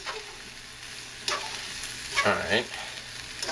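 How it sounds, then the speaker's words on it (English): Chicken pieces and red chilies fry in a wok for Taiwanese three cups chicken, giving a steady low sizzle with a couple of louder scraping stirs near the end and a brief spoken word. "Fry this for a little while."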